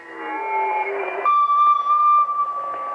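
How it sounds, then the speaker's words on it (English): Amateur radio digital mode signals on the 20 meter band at a solar-powered Field Day station: steady, overlapping warbling tones with a sharper whistle joining midway, continuous and fairly loud with a faint hiss beneath. "that's what the digital signals are sounding like"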